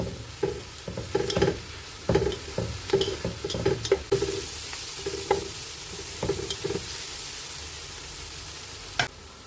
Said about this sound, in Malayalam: ഇതിൻ്റെ പച്ചമണം മാറുന്നത് വരെ നമ്മൾ ഇളക്കി കൊടുക്കണം.